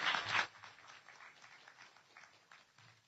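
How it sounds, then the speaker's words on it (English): An award ceremony for a sustainable transportation competition: a short burst of audience clapping that quickly thins into scattered, fainter claps, heard from a distance in a hall. "Go ahead and clap. That deserves a round of applause."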